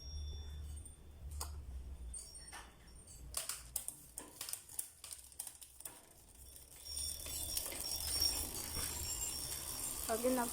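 A Speedone Soldiers bicycle hub freewheel, freshly washed, ratchets with rapid fine clicking in close bursts, then gives way to a rushing hiss.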